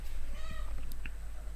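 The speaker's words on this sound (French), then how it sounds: "si vous entendez des chats miauler ou faire du bruit, c'est mes chats" A domestic cat meows a couple of times indoors, short close cries over a low steady hum from room or computer background noise, with no talking.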